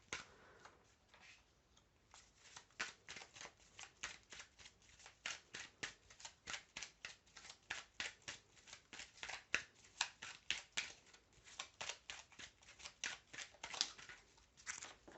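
Playing cards shuffled and drawn one after another during a tarot-style reading, a fast run of crisp riffling flicks and snaps, close and soft, with no voice.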